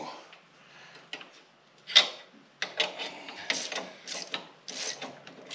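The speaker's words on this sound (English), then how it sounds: "Alright, so I got it all tightened up over on this side" A ratchet wrench tightens bolts on an EZ-GO RXV golf cart lift kit in a garage, sharp clicking bursts in quick repeated strokes, close and fairly loud, after a quiet start.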